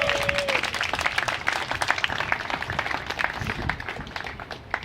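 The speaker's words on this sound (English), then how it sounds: "We do need to give Ed and his team a round of applause." Audience at a Dogpatch playground groundbreaking ceremony applauding, a dense, steady patter of many hands clapping continuously at moderate volume, with a brief voice near the start.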